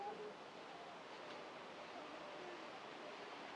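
A river near a rest spot in Munnar, Kerala, flows with a faint, steady broadband rush of water, continuous and distant, with no talk over it.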